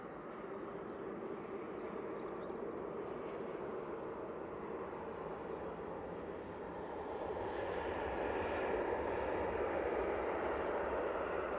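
An airliner in silk ribbons livery lands at Manchester Airport, a faint distant jet roar that builds slightly as it touches down on its rear gear.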